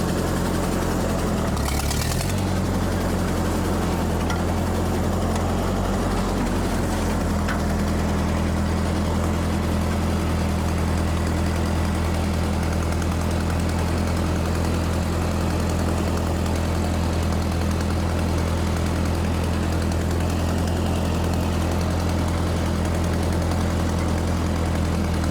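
A tractor engine drones loudly and steadily while the tractor moves slowly in second gear. The deep, continuous rumble stays close, with a brief knock near the start and no voices over it.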